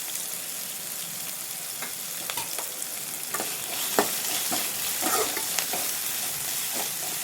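Vegetables stir-fried with salt on a high flame for idli manchurian: continuous close sizzling with repeated scraping and stirring strokes of a spatula against the pan.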